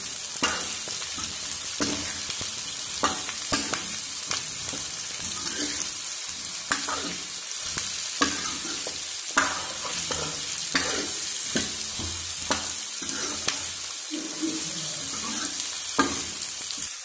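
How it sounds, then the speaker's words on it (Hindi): Raw fenugreek leaves fry in hot oil with a steady, continuous sizzle, broken by repeated stirring scrapes and clacks of a utensil against the pan, close and fairly loud throughout with no talking. "कच्ची मेथी डाल दी है और इसे अच्छे से फ्राई कर लेंगे तेल के अंदर 4 से 5 मिनट तक"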